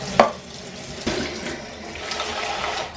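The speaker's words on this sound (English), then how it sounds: "fill it up with hot water" Hot water from a tap runs into two pots sitting in a kitchen sink, a steady splashing flow with a couple of sharper splashes near the start, close by and with no voices.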